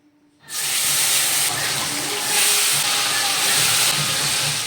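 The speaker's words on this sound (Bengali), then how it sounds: "এবার আমি মাছ ভাজাটা বসাবো সাদা তেল আর ঘিয়ে" Fish pieces drop into hot white oil and ghee and burst into a loud, sudden hiss that settles into a sustained, steady sizzle, close up with faint kitchen noise beneath.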